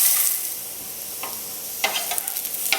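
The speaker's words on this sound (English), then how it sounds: "Sauteing the mushrooms at high temperature like this gives them such an incredibly wonderful, deep, almost meaty flavor" Shiitake mushrooms sauté over high heat in a hot pan, giving a steady close sizzle broken by a few sharp crackles and scrapes as they are tossed near the end.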